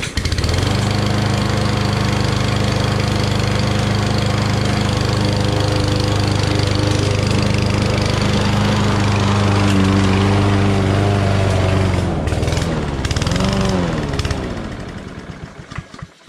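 A Power Smart 200cc four-stroke self-propelled push mower engine runs loud and close with a steady throbbing drone for most of the span, then its pitch wavers and the sound dies away.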